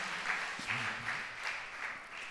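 Applause from a church congregation during a Telugu Christian sermon, a steady wash of clapping lasting a couple of seconds, moderately loud, with faint voices underneath.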